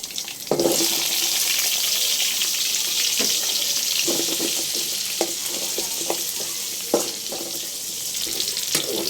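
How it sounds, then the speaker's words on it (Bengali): Potatoes frying in hot oil, a loud continuous sizzle with repeated clunks and scrapes of stirring throughout, close and without talk. "এখন আমি এই যে আলুটা ভাজবো।"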